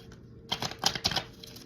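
A quick burst of riffling as a cheap deck of cards is shuffled, rapid crisp flutters lasting under a second, close by and fairly quiet with no speech.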